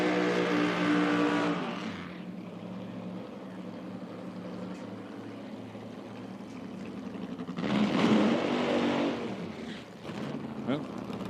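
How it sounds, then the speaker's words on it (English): A short burnout by an injected nitro drag racing car at an IHRA Outlaw Nitro Series event in Dinwiddie, Virginia: a loud engine roar opens, drops to a lower rumble, then a second loud surge near the end, with commentators talking over it. "a little short burnout there for Mick."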